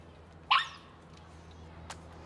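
A reactive dog lets out one sharp, loud bark at close range during a heel training session, followed by a fainter yip or short sound a moment later against quiet background.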